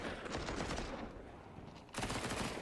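Rapid automatic MP9 submachine gunfire rattles in a Counter-Strike match, a dense burst of quick shots that drops briefly and then resumes sharper and louder near the end.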